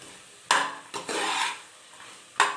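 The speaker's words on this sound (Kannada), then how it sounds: "ಬಟಾಣಿಯನ್ನು ಹಾಕ್ಕೊಂಡು ಅದು ಮಸಾಲೆ ಜೊತೆಗೆ ನೀಟಾಗಿ ಮಿಕ್ಸ್ ಮಾಡಿ" Green peas are stirred into masala in a pan for mushroom biryani, with three or four distinct scraping strokes of a spoon against the pan and a soft sizzle between them.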